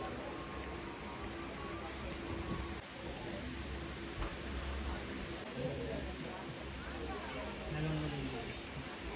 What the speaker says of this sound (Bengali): কাথি রেলওয়ে স্টেশনে এখন ছিটাফোটা বৃষ্টি পড়া শুরু হয়ে গেছে